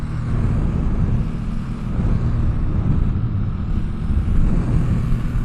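A Yamaha MT-09 or Ducati Streetfighter V2 motorcycle accelerating in second gear, a loud steady engine roar with heavy low rumble and wind noise throughout, heard from the rider's position with no speech.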